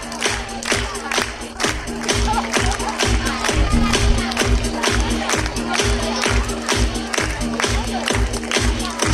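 An audience claps steadily at a teacher's retirement ceremony held in a high school, with loud, continuous applause and a faint voice underneath.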